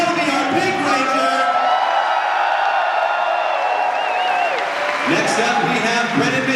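A packed fan convention hall erupts for a Power Rangers Dino Super Charge cast member, with loud sustained cheering, whoops, yells and applause from a large audience, swelling again toward the end.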